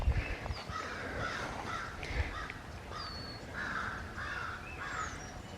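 Crows caw repeatedly from a distance in a summer vegetable garden among the squash plants, the harsh calls spaced out over a soft outdoor hiss with occasional faint chirps.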